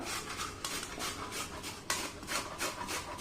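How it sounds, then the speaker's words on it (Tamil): Cassava root being grated on a cabbage grater in a home kitchen: a continuous rough rasping scrape in steady repeated strokes, close and fairly loud, with no talking. "இதை வந்து நம்ம கோஸ் சீவுறதில் வச்சு இப்போ சீவி எடுத்துடலாம்"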